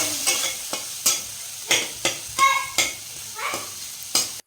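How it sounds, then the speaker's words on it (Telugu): Chicken noodles tossed in a pan with red chilli sauce, dark soy sauce and vinegar, repeated rhythmic spatula strokes scraping over a sizzling base, close and fairly loud. "కొద్దిగా red chilli sauce, dark soya sauce, కొద్దిగా వెనిగర్ వేసుకొని ఒకసారి కలుపుకొని"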